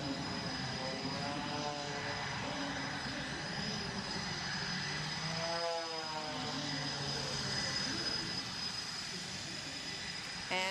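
Aircraft engine roaring steadily as a plane climbs to altitude at the NAS Oceana air show, loud and continuous throughout with a rising and falling pitch sweep midway.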